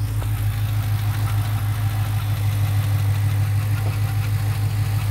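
A Chrysler 300 SRT8 engine idles steadily and close by before reaching operating temperature, a low rumbling drone with a faint ticking knock running through it, no voices.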